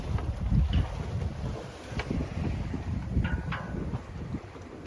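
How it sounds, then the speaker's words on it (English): Steady wind rushes and buffets across the microphone aboard a boat off Ibiza, a continuous close, moderately loud roar with occasional brief gusts and no voices. "Now we have wind from the other side, eh?"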